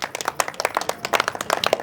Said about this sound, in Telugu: ఒకసారి క్లాప్స్ కొట్టండి అమ్మా